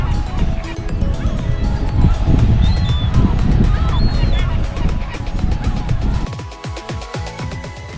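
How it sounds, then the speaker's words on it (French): Seagulls call near a sailboat at Pointe des Langoustiers, their cries coming in brief bursts over loud, steady wind and water noise, with a voice talking for part of it. "Un petit coin de paradis pour les mouettes."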